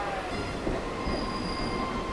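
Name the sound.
local train departing station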